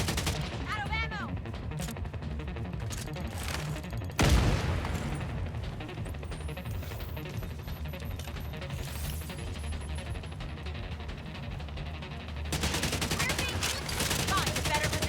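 Rapid gunfire in a shooter video game, dense overlapping bursts of shots with a sharp bang near the start and continuous crackling fire throughout.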